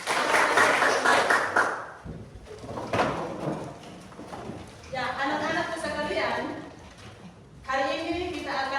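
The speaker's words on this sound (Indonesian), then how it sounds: "kita tepuk tangan." A school class claps together for about two seconds, then voices chatter and sing over faint room noise.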